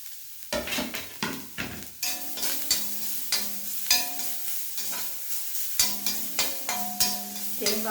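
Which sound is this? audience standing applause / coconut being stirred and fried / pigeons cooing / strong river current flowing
coconut being stirred and fried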